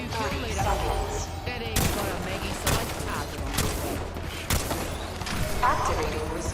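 Several loud shotgun blasts in a video game, spaced a second or two apart, with mechanical clatter between shots and someone talking over the action.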